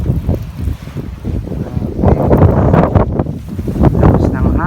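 Strong winter snowstorm wind roars and buffets the microphone in loud, uneven gusts throughout, with a person speaking over the rumble.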